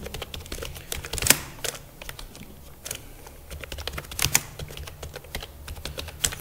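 Code is typed on a computer keyboard in a steady, fast patter of close key clicks, with a few louder strikes that sound like the space or enter key, and no talking.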